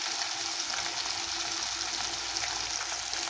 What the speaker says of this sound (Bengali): তার জন্য মাছটাকে আগের থেকে ভেজে নেব আমি